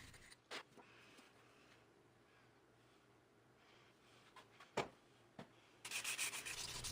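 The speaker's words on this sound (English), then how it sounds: "And then I was on to quite a bit of hand sanding with it." Quiet rubbing and scraping of sandpaper on an epoxy knife handle, with a few sharp knocks and a louder burst of brisk sanding near the end.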